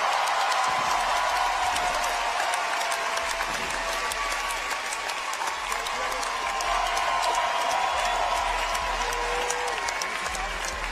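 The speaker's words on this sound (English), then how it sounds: "Give Patrick Vellner a big round of applause for second place" Loud, sustained applause from a large crowd fills the space steadily without letup, celebrating Patrick Vellner's second-place finish at the 2018 CrossFit Games final.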